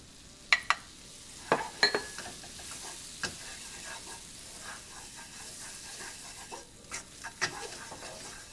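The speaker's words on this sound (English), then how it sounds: "Make sure you stir well so there's no chunks of flour" Flour being stirred into melted butter in a pan for a mac and cheese roux, with a soft sizzling hiss beneath intermittent scraping clicks of the spoon, quiet and close.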